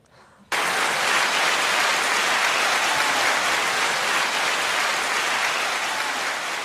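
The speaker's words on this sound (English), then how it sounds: "We got to have an applause for this." Applause starts abruptly after a short quiet stretch and becomes a loud, dense, continuous wash of clapping from a large group, holding steady for about six seconds with no break.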